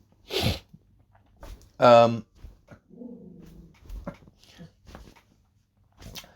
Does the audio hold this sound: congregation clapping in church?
no